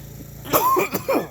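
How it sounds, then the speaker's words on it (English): A couple of close, harsh coughs in quick succession over a steady low background hum. "now all of a sudden I got a cough"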